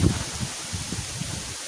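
Gusty wind buffets the microphone in low, rumbling surges over a steady hiss, with a faint rustle of leaves and no voices.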